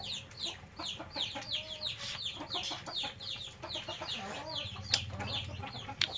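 Many chickens cluck and chatter together nearby in a continuous busy flock, with a low hum underneath and a couple of sharp knocks near the end.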